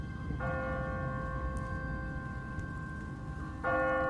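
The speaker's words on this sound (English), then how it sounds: "What kind of church bell goes off at 20 past the hour?" Church bell tolling in The Walking Dead video game, two resonant strikes a few seconds apart, the first ringing out and decaying, the second starting just before the end over a low background hum.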